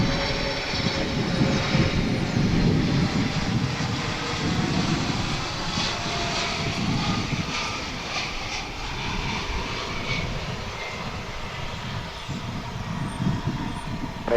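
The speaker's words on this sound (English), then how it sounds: "Queen of the Sky is touching down from Anchorage." A China Airlines Cargo Boeing 747 arriving from Anchorage touches down with a loud, sustained jet roar and rumble that slowly fades a little, with no voices over it.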